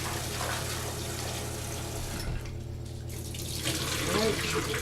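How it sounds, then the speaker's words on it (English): Kitchen tap running as potatoes are washed under it for a shepherd's pie, a steady close splash of water with small shifts and dips as hands move the potatoes through the stream. "I'll wash the potatoes up."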